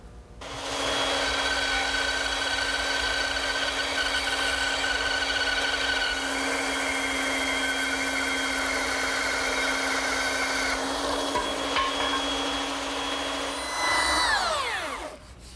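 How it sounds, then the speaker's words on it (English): A bandsaw cuts the traced outline of a wooden table leg blank, a steady loud whine with a droning hum and shifting tone as the blade works through the wood, ending with a sweeping change near the finish. "and then I'll cut it over at my bandsaw"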